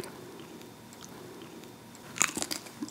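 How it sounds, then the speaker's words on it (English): Carnivore crisps bitten and chewed close up, a quiet lull followed by a sharp cluster of crunches near the end, no talking. "I'm off to eat my carnivore crisps."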